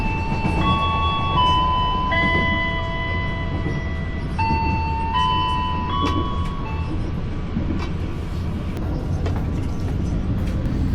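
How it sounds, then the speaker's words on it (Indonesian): The Matarmaja passenger train arrives at Blitar station with a continuous loud rumble of rolling wheels. Sustained tonal squeals and whines, likely from brakes or wheels, rise and fall throughout. "kereta api Matarmaja sudah tiba di stasiun Blitar"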